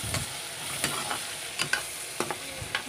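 Maggi noodles without egg stirred and fried in a pan: a soft continuous sizzle broken by several sharp scraping strokes of the spatula at an uneven rhythm.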